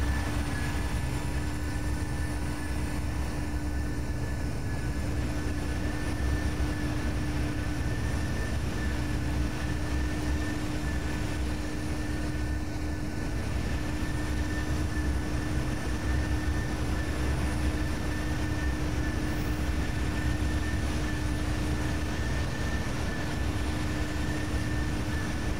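Steady cabin engine drone of an American Airlines Boeing 737 cruising at flight level 300 in Flight Simulator X, a constant loud hum with a faint high whine.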